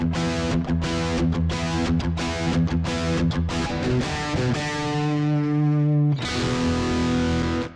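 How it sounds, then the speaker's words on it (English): Distorted electric guitar through a Saturn controller's distortion preset plays choppy, gritty chords, then a sustained saturated chord that rings before a final strum, with no talking. "Now on A3, I'll set a distortion here"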